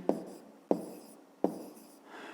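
Three short, crisp strokes of handwriting on paper during a fifth-grade math exercise, each a quick scratch followed by a fading scrape, evenly spaced and close up.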